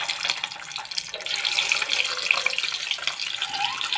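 Eggs fry in hot oil in a pan for an egg curry, giving off a steady, bright sizzle with scattered crackles and pops, close and fairly quiet, with no talking.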